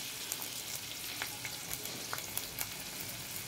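Capsicum, curry leaves and other vegetables fry in hot oil for an egg fritter dish, a steady close sizzle with scattered crackles and pops and no talking.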